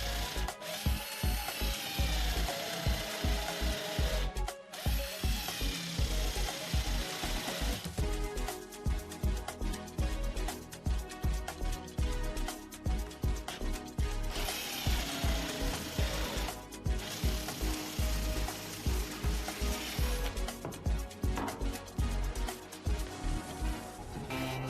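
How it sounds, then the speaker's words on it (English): A flat wood drill bores a round recess for an elephant's eye in a wooden rocking chair part, a continuous high whir with rapid chattering cuts and a few brief pauses, close and fairly quiet. "we use a flat wood drill"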